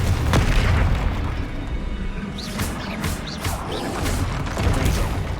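Blasting spell explosions in Hogwarts Legacy during a dragon fight, a run of loud booming bursts with crackling debris over a dense, continuous roar of battle noise and no talking.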